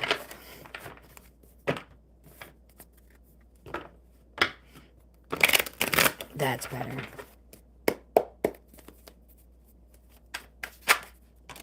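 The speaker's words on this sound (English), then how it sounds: "I suddenly forgot how to shuffle." Playing cards being shuffled at close range in several quick riffling bursts and taps, with someone speaking briefly between them.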